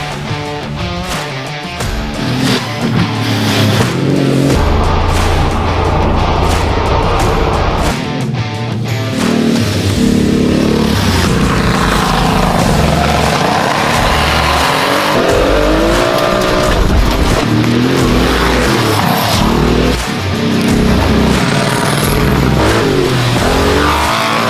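A Porsche 959 Paris-Dakar rally car driven hard on snow, its engine loud and close, revving up and down through gear changes with tire squeal and skidding, continuous with no talk.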